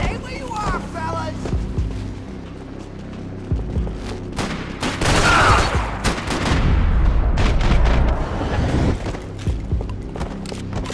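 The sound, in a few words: gunfire in video game Max Payne 3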